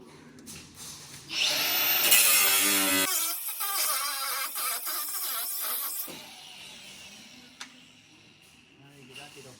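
A cordless rattle gun (impact wrench) in a car workshop buzzes loudly for a few seconds, shuts off abruptly, then another short burst follows amid shop clatter and background noise.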